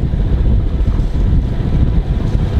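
Strong wind buffets a sailboat out at sea near Møllesund on the Swedish skerry coast, a loud continuous low roar with gusty microphone rumble and water wash beneath, no voices.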